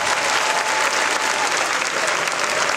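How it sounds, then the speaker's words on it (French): An audience at an Ecobank conference applauds for themselves, a steady, dense wash of clapping that fills the room evenly from start to finish with no voices over it. "est-ce que tu peux applaudir pour toi-même?"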